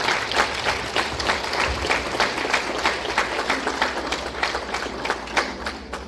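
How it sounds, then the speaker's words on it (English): An audience at an anniversary service of a Baptist church applauds the honorees, a warm, steady round of clapping with a slightly rhythmic pulse running through it, over a low hum of the room. "give a rousing round of applause for all of those who are being honored today for their contribution to Fox Hill"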